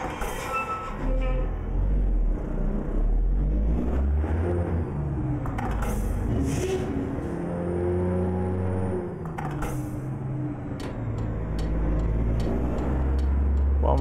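A Mercedes LP331 rigid truck engine idles and revs in a driving game, with a low rumble under the whole stretch, some hissy bursts and clicks, and someone talking over it most of the time.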